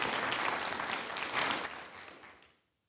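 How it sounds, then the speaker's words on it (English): A room of people at a university town hall meeting applauds, a full, dense clatter of clapping that holds for about two seconds, then thins and dies away into silence. "Let's clap for him anyway, Professor Medeiros"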